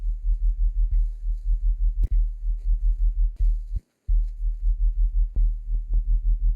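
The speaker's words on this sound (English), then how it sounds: "So what I'm gonna do is I'm just basically gonna give it some distortion." A distorted synth bass in a drum and bass production pulses in a steady, fast rhythm of deep throbbing notes, briefly cut out once and punctuated by a few sharp clicks, with no talking.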